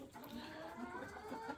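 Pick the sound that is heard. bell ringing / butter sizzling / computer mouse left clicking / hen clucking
hen clucking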